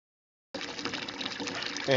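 Spring water pouring into a 5-gallon bucket at a rural cabin, starting abruptly after a moment of silence and continuing as a steady, splashing gush that swells slightly louder near the end.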